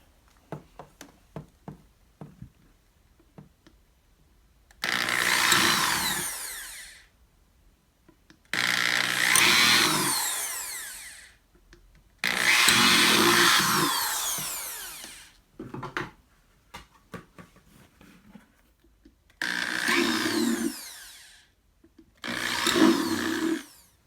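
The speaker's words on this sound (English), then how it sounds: "my husband is drilling holes for me in my buckets so the water can drain through" A power drill runs in five loud bursts of a few seconds each, whining through plastic buckets as it bores drainage holes, separated by quiet gaps with faint knocks and handling clicks.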